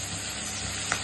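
Tomato pieces with turmeric hitting a hot pan, a brief steady hiss of sizzling at moderate volume with no voices.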